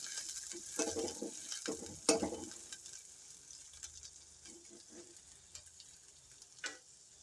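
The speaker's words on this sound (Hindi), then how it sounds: "अब हम इसमें डाल देंगे ये सारे स्पाइसेस, अदरक, हरी मिर्चें वगैरह, और उसे बस जस्ट हम 1 मिनट के लिए मिक्स करेंगे" Spices, ginger and green chilies sizzle and fry in a pan as a spoon stirs through them, with scraping strokes and crackling hiss at close range and no talking.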